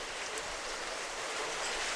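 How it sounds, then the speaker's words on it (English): Heavy rain pours outdoors beside a grill, a steady dense hiss of falling water, close and constant with no talk over it. "it's raining fucking water balloons out here"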